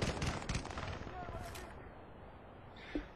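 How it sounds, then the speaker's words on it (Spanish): Gunfire erupts in a Battlefield Bad Company 2 multiplayer match, a burst of rapid overlapping shots and booming blasts that quickly decays into a rumbling tail, with one more short crack near the end, all fairly faint. "Empieza el intercambio de disparos."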